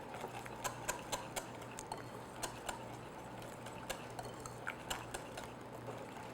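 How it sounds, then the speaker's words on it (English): A whisk beats banana streusel bread ingredients, including cooled melted butter, together in a bowl. It makes quiet, rhythmic light taps and clinks at a steady pace, with no voices. "I'm just going to whisk all that together."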